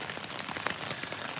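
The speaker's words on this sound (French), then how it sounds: "Rien de mieux que de la pluie en randonnée, on dirait, sur une tente." Light rain pattering on a tent during a multi-day hike: a soft, steady, faint spatter of drops with no talking.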